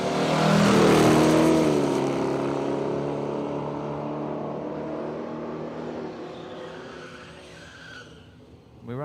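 Blown Big Falcon drag car in the 235 Street Radial Blown class at Willowbank Raceway, a loud, harmonic engine roar right up close at the start, then holding steady and slowly fading as it runs down the strip.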